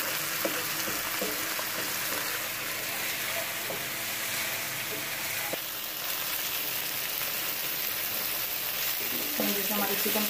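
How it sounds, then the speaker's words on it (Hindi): Chicken fries in a pan with a dense, continuous sizzle, steady and fairly loud, with occasional stirring clicks and no talk over it. "मैं तब तक फ्राई करूंगी साथ चिकन को, जब तक चिकन का कलर जो है वो चेंज नहीं हो जाता।"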